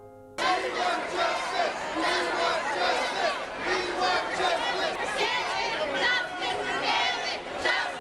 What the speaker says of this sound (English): Outside the courthouse, the reaction was volcanic. Crowds screamed in disbelief.